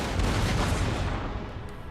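Jaeger riflemen fire muskets in the video game Total War: Empire, a dense rolling crackle of volley fire lasting about two seconds.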